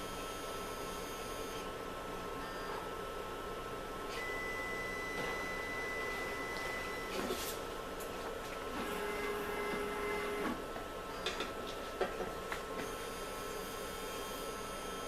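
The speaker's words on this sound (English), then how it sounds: "So the syringe pump is clearing out the contents of vial 2 from the sample loop." A syringe pump on a relative viscometer automation setup clears a sample loop, giving a steady mechanical whir with faint tonal whines and occasional small clicks, continuous and moderately quiet with no talking.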